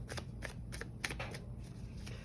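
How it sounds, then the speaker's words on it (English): Tarot cards shuffled in a quick series of crisp riffling bursts, close and fairly quiet, over a steady low background hum with no voices. "first we're going to shuffle all of your cards and lay them all out"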